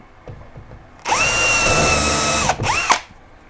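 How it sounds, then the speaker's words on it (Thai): A cordless drill-driver with a 2-in-1 X-Line20 drill and screwdriver bit bores into wood, its motor whining loudly for about a second and a half, then a shorter second burst winding down. "ผมจะเจาะไม้ตรงนี้นะครับ"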